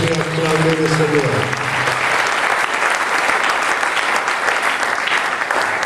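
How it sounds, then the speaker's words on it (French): A church congregation bursts into loud, sustained applause and cheering in praise of the Lord, filling the room close and steady after a voice speaks briefly at the start. "Est-ce qu'on peut acclamer le Seigneur?"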